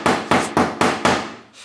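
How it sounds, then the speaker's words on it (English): A hammer pounds on a crashed car's metal body panel, five sharp ringing blows in an even rhythm each decaying away, followed by a softer sixth hit, close and loud with no talk. "I think we're just gonna do it with a hammer instead"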